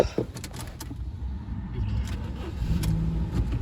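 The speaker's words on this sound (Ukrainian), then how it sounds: "Заводиться без проблем." A 1.6 MPI Ford C-Max engine starting, a brief crank followed by a low, steady idle, with some clicks and faint background noise from inside the car.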